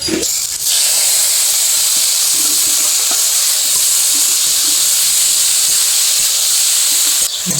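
Pirin shak leafy greens hitting hot oil with fried crushed garlic and two chillies, a loud, steady hiss and sizzle that starts abruptly and carries on alone.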